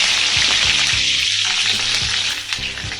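Shahjeera and curry leaves frying in hot ghee, a steady loud sizzle with crackles and light stirring scrapes throughout, no voices.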